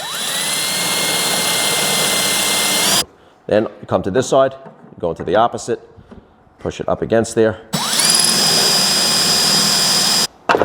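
A drill with a 6mm bit pre-drilling a drawer box side held in a jig, heard as two loud, steady bursts of whirring separated by someone talking.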